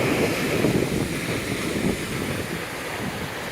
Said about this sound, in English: Nice steady wind out here.